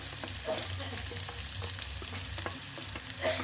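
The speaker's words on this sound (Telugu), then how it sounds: "ఆయిల్ అయితే వేడెక్కిన కదా ఉల్లిపాయలు వేసుకున్నామండి." Onions frying in hot oil in a home kitchen, a steady close sizzle and crackle with occasional soft stirring clicks, no voices.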